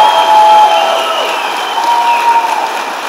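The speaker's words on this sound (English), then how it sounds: "Let's all give all of our student graduates another big round of applause" An audience at a nurse pinning ceremony applauds student nurse graduates, loud dense clapping with some cheering mixed in, strongest at the start and continuing steadily to the end.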